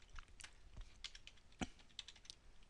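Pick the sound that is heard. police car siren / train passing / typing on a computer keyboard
typing on a computer keyboard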